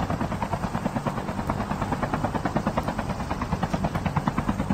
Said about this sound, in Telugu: డ్రైవ్ చేసింది ఎవరు హెలికాప్టర్ ని?